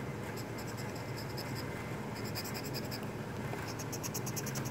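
A coin or fingernail scratches the coating off a lottery scratch-off ticket in short, rapid, rhythmic bursts of close, dry scraping, with no talking.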